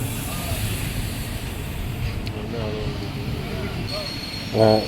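The Kottayam–Nilambur Express rumbles out of Edappally station, a steady low rolling drone heard from on board, with a brief horn-like blast near the end and voices in the carriage.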